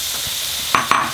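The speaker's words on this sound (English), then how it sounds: "now fry the tomatoes in the masala till the tomatoes are nice and mushy" Tomatoes frying in masala in a pan, a loud steady hiss of sizzling oil with two sharp stirring scrapes near the end, close up and without talk.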